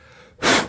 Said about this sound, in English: just blow like that to clear out the dust